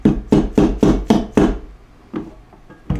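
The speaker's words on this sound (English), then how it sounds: "I'll just tap it in with a dead blow hammer gently" Six quick, dull taps from a dead blow hammer seating a bushing in a Ski-Doo front suspension, in an even rhythm, then a couple of softer, scattered knocks.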